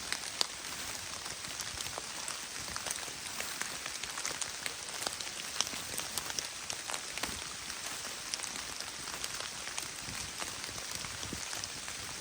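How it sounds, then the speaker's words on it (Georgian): Spring rain patters steadily onto a poncho in a forest, a dense, even crackle of drops striking close by for the whole stretch, with no voices. "გაზაფხულის წვიმა მაინც არ არის იმდენად ცივი."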